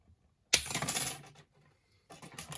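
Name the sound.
cutting a brass strip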